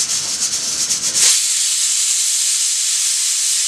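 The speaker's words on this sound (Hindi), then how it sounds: "तो पहली सीटी आ चुकी है दोस्तों" A pressure cooker, cooking a soya chunk vegetable curry on a gas stove, releases steam in a sharp loud hiss as its whistle blows, a rushing rasp that holds steady after a brief lower-pitched build-up.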